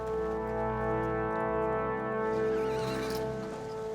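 A horse neighs over a sustained, droning musical backdrop, the whinny rising and wavering for a couple of seconds before fading.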